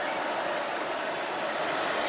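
Continuous wash of stadium crowd noise from Georgia fans at an SEC Championship football game against LSU, a loud, even roar that holds steady throughout, with no distinct voices on top.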